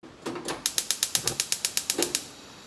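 A stove burner being switched on under a tamagoyaki pan, with a rapid run of about a dozen crisp igniter clicks in steady rhythm, close and clear.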